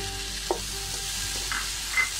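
Tomato and carrot saute in a pan, a soft steady sizzle close by with a few light stirring knocks.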